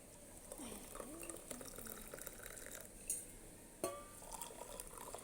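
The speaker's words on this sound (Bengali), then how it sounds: "এই কিন্তু আমি জলটা ঢেলে দিচ্ছি" Boiled butterfly pea flower water is poured into two cups: a soft, quiet liquid trickle with a couple of light glass clinks partway through.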